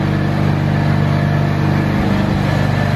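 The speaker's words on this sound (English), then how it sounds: "my car may make a bit more noise because of the exhaust" A car engine on a dyno drones steadily with a deep, rumbling exhaust, loud and continuous with a slight throb.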